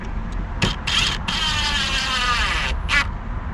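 Einhell cordless drill driving a screw into the timber of a raised bed, a close whirring buzz in short bursts and one sustained run, with brief stops between.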